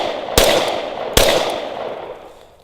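A Glock 21 Gen 4 pistol fires two loud, sharp shots about a second apart, each followed by a ringing outdoor decay.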